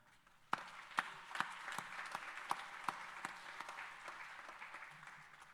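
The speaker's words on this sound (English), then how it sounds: "give them a round of applause as well" Audience round of applause for the board of directors at an electric cooperative's annual meeting, starting with a few sharp claps then swelling into a sparse, moderately distant patter that gradually fades.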